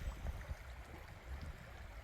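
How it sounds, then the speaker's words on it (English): Water rushing and gurgling beneath the ice of a frozen waterfall, a faint, steady low wash with no voices. "You can hear the water rushing inside the ice."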